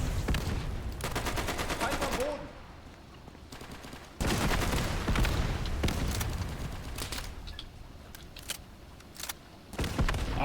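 Dense gunfire and heavy fire support in the World War II shooter Easy Red 2, with rapid rifle and machine-gun bursts and booming impacts filling the scene continuously, loud and close.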